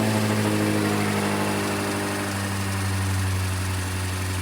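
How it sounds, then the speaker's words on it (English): A BMW F90 M5 engine idles steadily right after starting, with a constant low hum and a faint mechanical whine. It runs on its own with no talking. "now all we have to do is start the car up and do the bleeding procedure"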